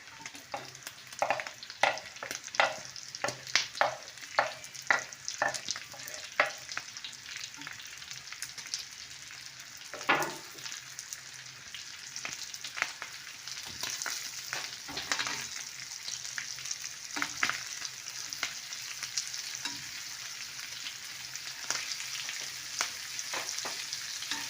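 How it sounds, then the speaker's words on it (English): Onions frying in a pan for omena (silver cyprinid), a continuous crackling sizzle close by, punctuated by frequent sharp stirring clacks and scrapes, busier at the start and steadier later. "So I'm going to go in with my onions. I'll add onions."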